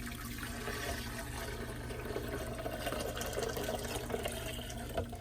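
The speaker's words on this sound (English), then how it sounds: "Now you're going to go ahead and add your tamarind water." Tamarind water poured into a pitcher for an aguas frescas drink, a steady continuous liquid stream running evenly for several seconds without talk.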